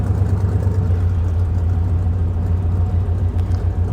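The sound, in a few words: off-road vehicle engine driving through the woods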